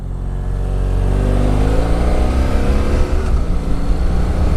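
A heavy motorcycle accelerates hard, its engine droning loud and steady as the pitch climbs gradually through the pull, heard close from the rider's position with wind noise underneath.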